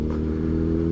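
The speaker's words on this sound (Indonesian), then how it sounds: "ya motornya berisik pisan" A noisy motorcycle engine, a Honda CBR, idles steadily and loudly close by at a fast-food drive-through, a continuous rough rumble with no talking.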